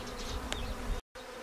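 Many honeybees hum around freshwater drinking troughs at an apiary, a dense steady buzz close by that briefly cuts out near the end.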